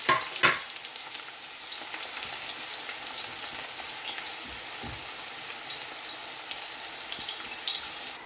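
Onions fry in a pot as nihari gets started, giving a steady close hiss with small pops and crackles, plus a few clinks of a utensil at the beginning and no speech.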